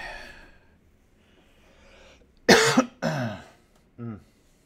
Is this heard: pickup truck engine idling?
no